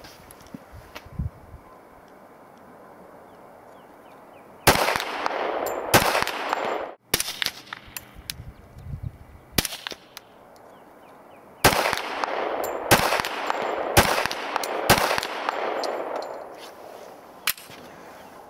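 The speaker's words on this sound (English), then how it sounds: "it's a lot easier on the ear to shoot the suppressed 45" Suppressed Glock 21 .45 pistol fired at an outdoor range, a series of sharp, loud muffled reports in irregular spaced groups with quiet gaps between, heard close.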